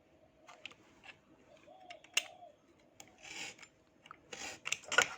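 Scissors cut card model parts along a printed line, giving soft rasping snips and rubbing paper sounds in irregular bursts, close and fairly quiet.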